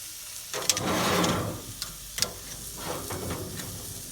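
The fat side of a tri-tip sizzles on a charcoal grill, a close, broad hiss of frying that swells and eases, with a few sharp pops and crackles scattered through it.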